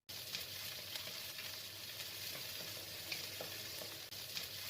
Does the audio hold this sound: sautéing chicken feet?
yes